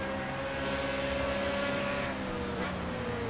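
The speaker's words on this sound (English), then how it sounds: "I think I was over-revving my engine that whole time." A GT4 racing car engine in the video game Project CARS drones at a high, steady pitch at Watkins Glen, over-revving near its limit, with a slight pitch drop near the end.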